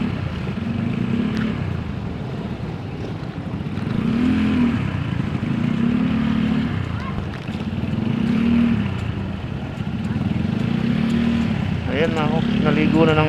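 A tricycle engine rumbles on a village road in Barangay Mabiga, Mabalacat, Pampanga, its drone rising and falling in repeated surges close by, with a person talking over it and a brief higher whine near the end.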